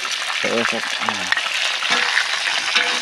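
Spice paste fries in a loud, steady, dense sizzle, with a voice talking over it in short bursts.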